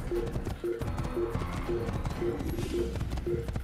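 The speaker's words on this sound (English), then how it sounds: "Can I run my horse through it? I can!" A horse's hooves clip-clop at a quick, steady running gait through the Assassin's Creed game world, the rhythmic beats fairly close and continuous, with no one talking over them.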